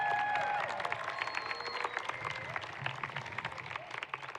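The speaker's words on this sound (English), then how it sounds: "One big round of applause to 2019 graduates." Graduation-ceremony audience at a high school applauds the class of 2019: steady, dense clapping from a large crowd in a hall, moderately distant and lasting throughout.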